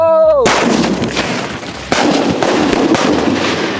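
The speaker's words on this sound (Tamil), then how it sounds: "மேஜிக் ஸ்டார் எப்படி வெடிச்சுன்னு பார்த்துருவீங்க நீங்களே." Magic Star sky shot firework going off, a sharp loud blast followed by crackling bursts and a second strong bang, close and booming, with a short whistle-like rising tone just before the first burst.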